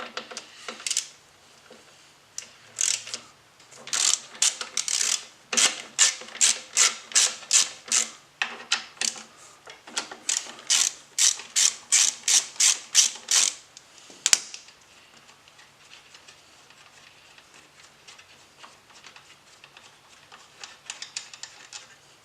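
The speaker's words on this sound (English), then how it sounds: "We're going to go ahead and remove the two 12mm bolts that are holding our brake caliper in place." A ratchet works the 12mm brake caliper bolts on a Yamaha Warrior 1700 front brake, giving a long run of quick, close, evenly paced clicking bursts, then a fainter, steadier scraping.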